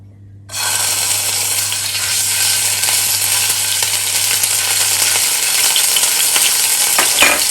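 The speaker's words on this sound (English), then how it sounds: "So first goes in the cooking oil. Okay. Alright guys, so now I'll be adding the garlic paste." Garlic paste hits hot cooking oil and bursts into a loud, steady sizzle that holds evenly for several seconds, close up with no voices over it.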